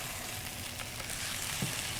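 Scrambled eggs frying in a pan give off a steady, quiet sizzle, soft and continuous, with faint stirring movements and no talking.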